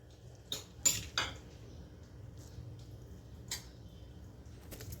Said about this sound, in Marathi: आपण परतलेल्या भाज्या घालूया